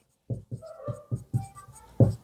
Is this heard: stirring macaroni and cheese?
no